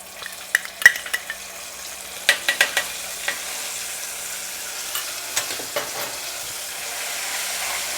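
Ground chili paste hitting hot oil for Tamil-style ginger thokku, giving a steady sizzle and frying hiss with scattered sharp pops and crackles, close up and alone without talk.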